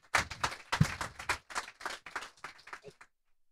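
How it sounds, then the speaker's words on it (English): An audience at a blockchain and AI meetup in Amsterdam claps, a scattered round of applause that starts abruptly, stays moderately loud for nearly three seconds, then thins out and stops. "So I suggest you can thank Dimitri with a big round of applause."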